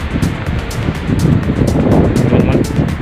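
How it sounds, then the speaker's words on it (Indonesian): Strong wind buffets the microphone outdoors during a dove hunt under a cloudy sky, a continuous loud roaring rush with gusty surges throughout. "ini anginnya kencang sekali"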